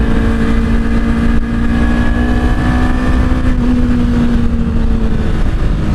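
A Honda CBR250RR motorcycle engine runs steadily at speed on a ride, with a loud, continuous drone and a slowly rising pitch from start to end, alongside constant rushing wind noise.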